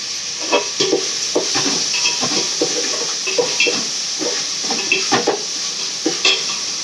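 Ingredients frying in a small amount of oil in a pan give a loud, steady sizzle, with frequent close spatula knocks and scrapes at an uneven stirring rhythm and no talking.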